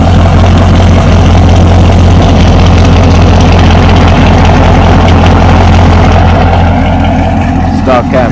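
Chevrolet C6 Corvette with Borla ATAK mufflers and catless exhaust idling at night, a loud, deep, steady rumble close by that holds even before a brief disturbance at the end.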